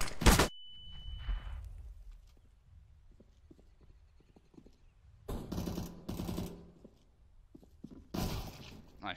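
Bursts of gunfire in CS:GO Wingman on the map Chalice: a loud sharp shot at the start, then two later clusters of rapid shots separated by quiet stretches of faint footsteps and ambient game noise.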